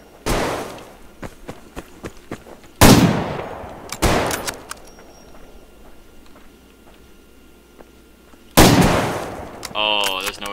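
Gunfire in the online shooter Survarium, with sharp loud shot blasts and echoing tails separated by quieter stretches of distant pops and impacts, ending in a warbling game effect.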